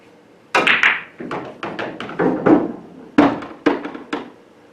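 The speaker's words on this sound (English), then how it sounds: "the better play is to shoot the 8 ball now and draw the cue ball off the back of the stack" A cue strikes the 8 ball in a one-pocket pool game, then the cue ball draws off the back of the stack, setting off a close, loud series of sharp clacks and knocks as balls collide and roll up the table.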